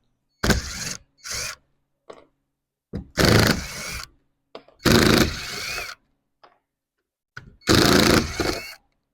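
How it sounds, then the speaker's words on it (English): A power drill with a Phillips head undoing the screws on the boards that secure a cooler cart, heard as several separate loud whirring bursts with short pauses between them, close by, with no talking. "You're going to want a power drill with a Phillips head."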